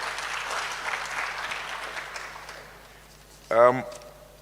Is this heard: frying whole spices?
no